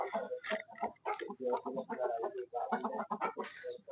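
Chickens cluck and chatter in quick, irregular bursts, close and fairly loud, a busy stream of short clucking calls with no speech.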